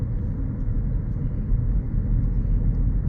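2024 Lexus NX 250 Premium on the move, a low, even road rumble and engine hum heard from inside the cabin, steady and unbroken.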